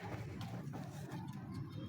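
A pigeon coos softly and faintly in a loft, low murmuring calls under a hum of background noise.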